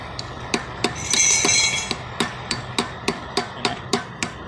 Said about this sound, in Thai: เจาะติดปุ๊บแล้วก็ค่อยเคาะออกครับ